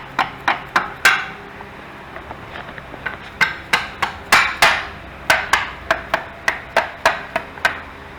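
A hammer taps dowel pins into an engine-to-transmission adapter plate, giving sharp metallic strikes close by, in short bursts with pauses and then a quicker steady run of about a dozen even taps.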